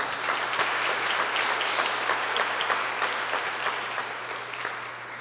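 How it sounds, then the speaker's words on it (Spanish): A church congregation claps together in steady, sustained applause that fills the room, then tapers slightly toward the end. "Dale un fuerte aplauso al Señor"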